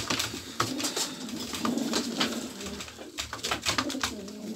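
Polish show racing pigeons coo in low, soft, repeated calls against a steady background hum, with no talking.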